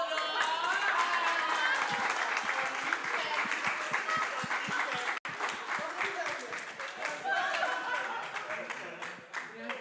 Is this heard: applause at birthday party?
yes